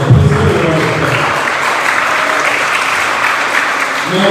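A scholarship awards audience claps in steady, loud, continuous applause that fills the room throughout, with no break and no voice rising above it.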